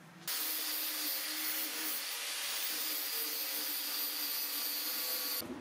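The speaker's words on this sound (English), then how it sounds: "grind away the rivet heads so I can pull them out" Power tool grinding off rivet heads on a blacksmith forge being restored, a steady harsh whine with broadband hiss running nonstop for several seconds, close and loud, starting and stopping abruptly.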